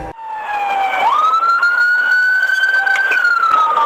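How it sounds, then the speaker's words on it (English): A police car siren wails loud and close during a high-speed pursuit, its steady tone rising into a sustained high pitch with the vehicle engine rumbling underneath. "Deputy McGuigan activated his lights and sirens"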